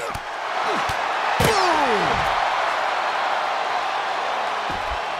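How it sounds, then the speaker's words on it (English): A loud wrestling arena crowd roars steadily in WWE 2K24 during a Goldberg match, a dense, sustained cheer with sharp ring slams and impact thuds cutting through near the start. "The sound of this crowd is deafening, and he's asking for more."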